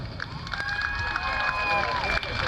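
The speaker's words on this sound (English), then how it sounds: "let's hear an applause for number 60," Crowd noise and cheering at a live competitive event with a race announcer, a broad, steady roar of cheers and whistles held at high level for the whole stretch.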